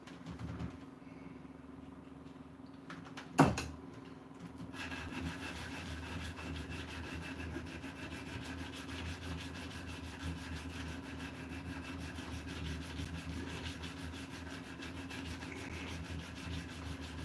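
Continuous rasping friction strokes from hand sanding wood run steadily after a sharp knock near the start, close and moderately loud with no talk.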